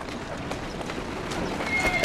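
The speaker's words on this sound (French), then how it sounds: "on va prendre un poney" Galloping horse in Assassin's Creed Syndicate, a quick run of hoofbeats with a faint whinny, moderately close and growing slightly louder toward the end.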